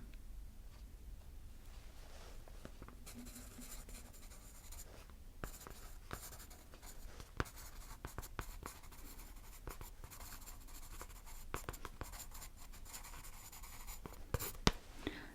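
A pencil scratches across paper in close, soft strokes, a continuous faint scritching broken by sharper taps and pauses, alone and without speech.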